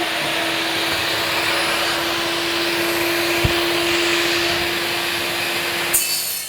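Power tool cutting lame wood in a dusty workshop with a fan running, a steady loud broadband whine holding for about six seconds before stopping abruptly, with a faint tonal hum underneath.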